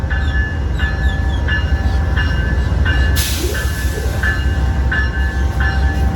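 Amtrak Silver Meteor passenger train pulling out of West Palm Beach station, a steady loud rumble of rolling railcars with a rhythmic clicking beat of wheels over rail joints, one brief burst of hiss partway through.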